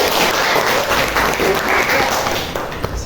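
Classroom audience clapping at the close of a group presentation in a chemistry class, dense continuous applause from a nearby group of students lasting the whole moment, fairly loud with a faint voice underneath.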